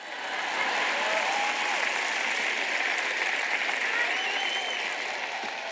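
Steady audience applause in a church sermon hall, a dense wash of many hands clapping that swells in and holds evenly for several seconds, fairly close and continuous without speech over it.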